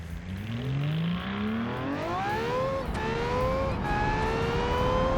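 A car engine in a car design video game revs up repeatedly, its whining pitch climbing in successive rising sweeps under a loud, steady roar.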